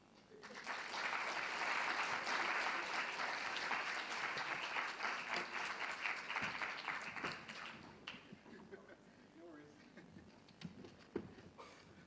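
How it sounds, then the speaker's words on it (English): Audience at a plenary session of a world planning congress applauding a speaker, a dense sustained ovation that tapers off after about eight seconds into scattered claps and faint background talk. "Another round of applause for Pedro Ortiz."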